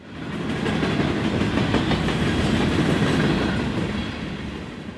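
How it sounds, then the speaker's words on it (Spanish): A train rolls along the rails toward Miami, a steady rumbling roar with clickety-clack wheel sounds that swells in and then eases off slightly at the end, with no talking. "Los trenes rodaron hacia Miami"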